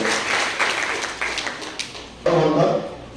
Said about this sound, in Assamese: কুতুবুদ্দিন আহমেদ ছাৰৰ এটা হাত চাপৰি হ'ব।